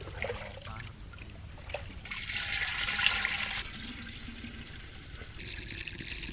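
Water poured into a pot while cooking South Indian vegetarian dishes, a short burst of splashing, rushing liquid in the middle amid faint background trickling.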